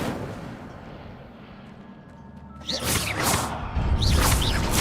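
Incendio fire spell cast in the video game Hogwarts Legacy: a sudden loud whooshing burst of flame erupts after a quiet stretch, followed by crackling, swishing effects that build again toward the end.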